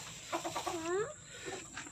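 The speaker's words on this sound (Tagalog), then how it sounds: "Ito yung bagong manok na lalaki." A young native rooster gives a few short clucks followed by a rising drawn-out call, close by, with low farmyard background noise.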